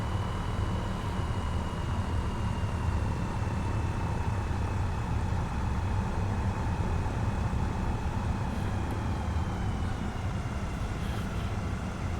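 A Zlin Norden light aircraft taxis on a runway at Indian Creek in a VR flight sim, its propeller engine giving a constant, even drone for the whole stretch.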